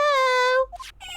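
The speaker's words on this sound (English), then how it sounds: "Ah, it's a kitty, it's a kitty, kitty, kitty, kitty, kitty." A short, high cat meow rings out in the Phoenix Wright: Justice for All video game, a single clear cry followed by a couple of quieter chirps and a brief rustle.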